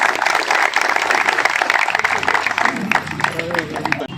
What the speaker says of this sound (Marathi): सर्वप्रथम महाराज साहेबांचं आपण टाळ्या वाजवून सहर्ष स्वागत करूया